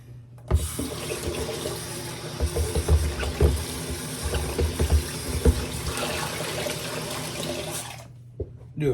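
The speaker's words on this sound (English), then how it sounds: "Do a quick rinse on my basin, do a quick wipe out" A tap runs into a shaving basin for a rinse, a steady close stream of water with splashes and clatter, cutting off near the end.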